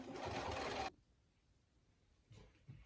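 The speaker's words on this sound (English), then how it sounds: "we are going to top stitch that on this back piece" A sewing machine top stitching a wallet interior panel, stitching 1/8 inch from the edge, runs in a steady close whirring burst for just under a second, then stops; a couple of faint handling bumps follow.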